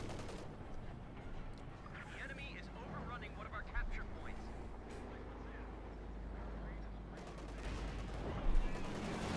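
Gunfire and tank combat from Company of Heroes 2, a Wehrmacht versus US Forces match with a Panther taking anti-tank hits; dense rattling shots and booming impacts run throughout, with a commentator's voice talking over the battle.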